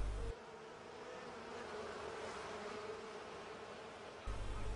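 Worker honeybees buzzing steadily in a dense, continuous drone from many insects at once, close and fairly quiet, with a short change in background at the start and end.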